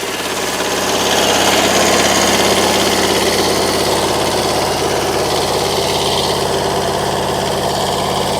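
A Japanese mini tractor pulling a potato digger runs steadily after starting up, its small engine droning loud and close with a constant buzzing vibration and no talk.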